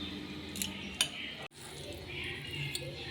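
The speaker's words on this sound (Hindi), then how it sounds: "अब अच्छी तरह मिक्स कर लेंगे।" A spoon scrapes and clinks against a bowl while vegetable filling with oregano is mixed for bread chicken cheese rolls. The stirring is close and steady, with a few sharper clinks and one brief pause partway through.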